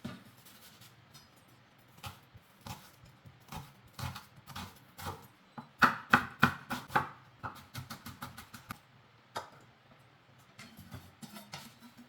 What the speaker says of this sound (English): we're gonna chop our cilantro too